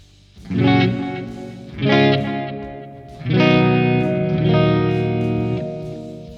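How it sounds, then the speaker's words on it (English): Clean electric guitar notes from a NAM amp-modeler player ring out in three strummed phrases, each tail smeared by echoing delay repeats and a soft roomy reverb, with no voices. "a tone which is fairly clean, has a little bit of delay and a little bit of reverb"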